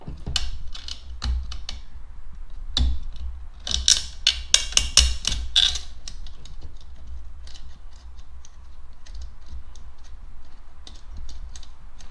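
Screws being driven into a thrown-out Troy-Bilt TB525CS 4-cycle weed eater give a series of sharp, close mechanical clicks and ratcheting taps. The clicks come in uneven clusters, loudest around the middle, over a low steady hum.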